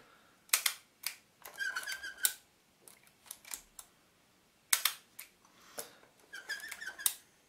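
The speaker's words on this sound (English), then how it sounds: "Now fire the shutter and open the lid again." A Rolleiflex 3.5F twin-lens camera with a Carl Zeiss 75mm f/3.5 lens, its shutter firing and film advance working in sharp close mechanical clicks and short winding rasps, spaced unevenly with quiet gaps, no voices.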